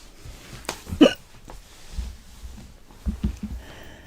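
A girl hiccups several times at uneven intervals, each one short and sharp, close by in a quiet room with faint breathing between them.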